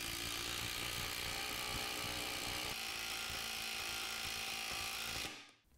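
A Ryobi cordless impact tool fitted with a 19 mm Snap-On socket on a 2 Ah battery drives 7-inch lag bolts, giving one continuous loud whirring rattle that holds for about five seconds and then cuts off.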